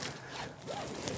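A seatbelt is pulled across and buckled inside a Toyota Yaris GR Sport, a short close rustling slide of webbing ending in a faint click.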